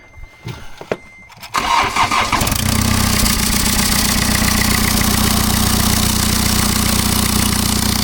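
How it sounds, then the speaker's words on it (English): A BMW F10 518d with the B47 diesel engine cranks briefly after a few clicks and knocks, then fires up and settles into a loud, steady diesel idle close by, running continuously after a turbo replacement. "we can find out if it's running and start up the engine"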